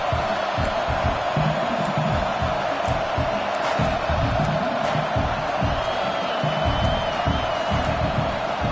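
A loud home crowd roars and cheers without pause inside a Penn State versus Syracuse college football video game, a dense, steady wall of noise that carries on across the whole stretch.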